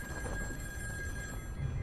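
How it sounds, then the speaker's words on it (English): A telephone rings in the horror video game In Sound Mind, a thin sustained electronic tone held steady over a low murmuring background for about two seconds. "Oh, the phone's ringing."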